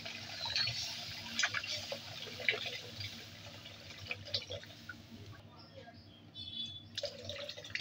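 Milk poured from a container into a pot for making semai (vermicelli pudding) in a home kitchen, a soft continuous liquid trickle and splash with faint drips, fairly quiet with a low background hum throughout.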